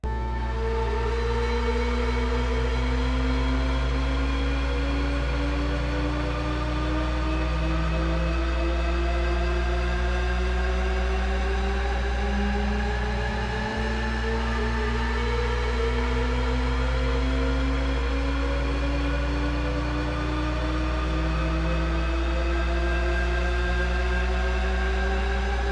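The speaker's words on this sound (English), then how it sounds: "the siren group, which is a dub siren effect, again being used to enhance the effect" Layered tones glide continuously upward, seeming to climb without end, over a steady loud low drone with siren-like sweeps and mechanical hum.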